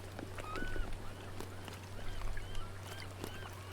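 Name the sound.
bird honking in video game Sons of the Forest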